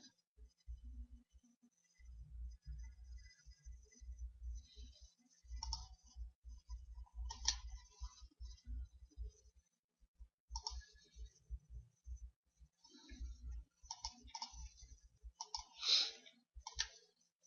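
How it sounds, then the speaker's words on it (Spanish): A computer mouse clicks while someone works in Visual Studio, sparse sharp clicks scattered across the stretch with quiet gaps, close and faint against a low thumping background. "hacemos clic con el botón derecho"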